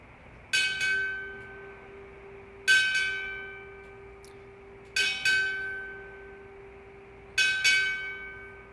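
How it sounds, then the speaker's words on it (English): A ship's bell at a Chief Petty Officer pinning ceremony is struck four times in two quick pairs, each ring bright and clear with a long fading tail, alone in a quiet hall. "strike 4 bells."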